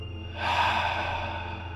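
A single slow breath during an evening yoga session, a soft airy exhale swelling and then trailing off, close and gentle over a low background hum, with no talking.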